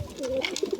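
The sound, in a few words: pigeon chicks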